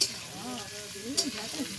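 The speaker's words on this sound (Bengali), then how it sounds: "এখানে এটা পেঁয়াজ ভাজা হচ্ছে" Close, steady sizzling of food frying in a pan, with a voice talking over it.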